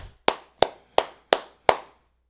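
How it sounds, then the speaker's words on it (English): Five crisp hand claps in an even rhythm, close and distinct, each ringing briefly before the next, with no voices. "Clap it up"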